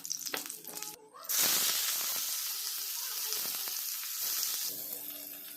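Oil heating in a pan for homemade chow mein, a loud continuous sizzle and hiss after a brief clatter, steady and close throughout.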